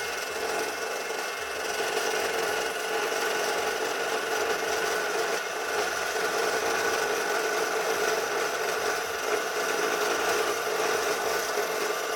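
Metal cutting tool works through thick steel stock, a steady continuous rasping grind held at an even level for about twelve seconds, close with no talking.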